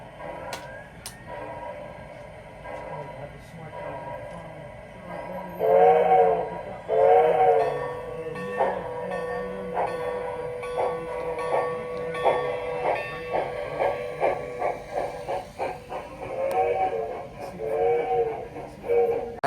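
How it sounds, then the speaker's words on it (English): Digitally sounded PIKO PRR 2-6-0T model tank engine: rhythmic chuffing builds with whistle blasts and clanking, loud and close, with some voices in the background. "This locomotive is equipped with digital sound and smoke."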